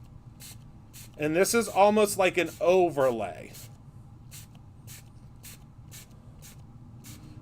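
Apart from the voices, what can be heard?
spraying Ornament Gold spray paint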